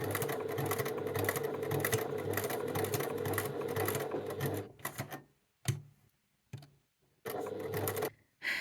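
A sewing machine stitches in a long, rapid, whirring run, then stops and starts in a few short bursts before running steadily again. The sound is close, and nobody speaks.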